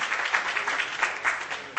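Short burst of audience applause at a corporate quiz event as a prize winner is honored, even and continuous clapping from a modest crowd.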